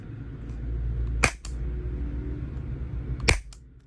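Two sharp gas blowback shots from a Maruyama MP9 airsoft SMG, spaced about two seconds apart over a low steady background hum, with no talk.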